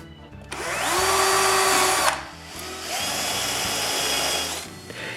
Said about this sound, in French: je perce des trous pour pouvoir le visser en place